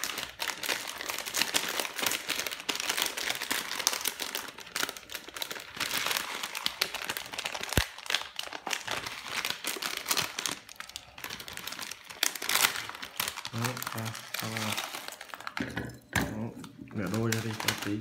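Plastic instant noodle seasoning and vegetable packets for Potato King steamed chicken and scallion noodles crinkle and rustle continuously as they are opened and handled up close, while someone talks throughout.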